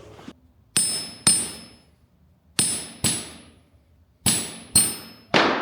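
Hammer blows on a blacksmith's anvil, tested for rebound: six sharp, ringing metallic strikes in pairs, each leaving a bright sustained ring that fades, close and loud with quiet gaps between.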